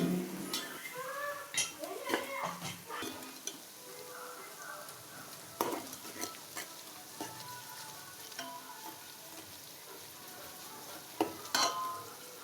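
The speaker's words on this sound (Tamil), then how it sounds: "ஸோ நல்லா ப்ரௌனிஷாக வெங்காயம் வர வரைக்கும் நல்லா வதக்கிக்கலாம்." Sliced onions, green chilies and cashews sautéing in a pan until brown: a busy, close sizzle with frequent stirring scrapes and metal clinks of a spoon against the pan.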